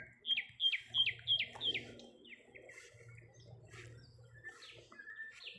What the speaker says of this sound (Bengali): পাখি ডাকছে কোত্থেকে।